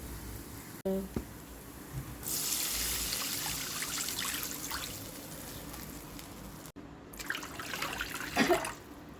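1.5 cups of water pour and trickle steadily into a pan for several seconds, with a brief clink of metal and faint kitchen noise around it.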